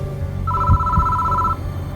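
A telephone rings in the horror video game Death Mark, a steady electronic ring tone sounding once over a low game ambience with faint thuds beneath it.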